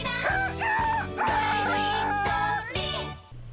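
A female anime character's voice imitates a chicken, with loud, close, squawking clucks and crow-like calls in a few quick bursts over a dense soundtrack.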